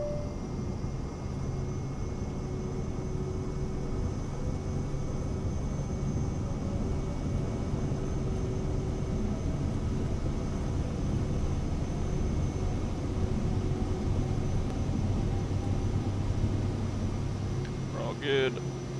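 Steady, unbroken engine drone and cabin hum of a Cirrus Vision Jet simulated in Microsoft Flight Simulator 2024, holding level for the whole stretch, with a brief click near the end.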